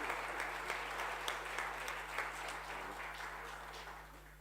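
Steady audience applause fills a conference hall, dense and continuous, slowly tapering toward the end with no voices over it.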